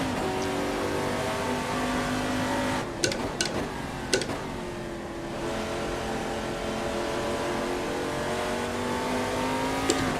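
A race car engine in a racing sim game holds a steady droning tone, briefly dropping and shifting pitch around a few quick gear or throttle changes before settling back into a sustained whine.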